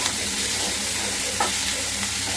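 Fenugreek leaves fry in a pan with a steady, dense sizzle, a brief stirring scrape midway; no voices.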